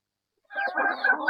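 Chickens on a provincial farm cluck and call after a moment of silence, a rooster-like voice rising into continuous clucking, close by and fairly loud.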